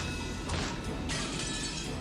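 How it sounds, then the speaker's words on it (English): A glass window smashed with an antique chair in the Umineko visual novel, heard as two bright crashing bursts of shattering glass over a steady background. "The glass smashed with a violent sound and the frame groaned and creaked"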